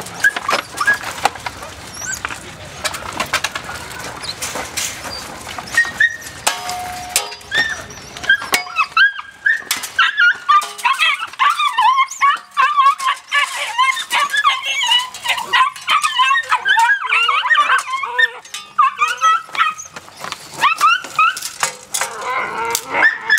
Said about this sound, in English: The blue puppy, blue Brindle Dutch.